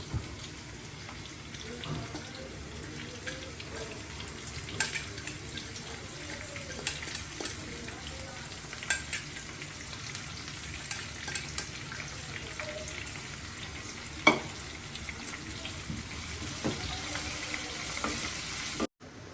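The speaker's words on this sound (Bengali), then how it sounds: "ভাজা ভাজা হয়ে গেছে, এবার ঢেলে দেবো পেঁয়াজটা।" Onion frying in oil in a pan for chicken tehari, a soft continuous sizzle with occasional stirring clinks and scrapes, fairly quiet and steady, with faint water or tap sounds in the background.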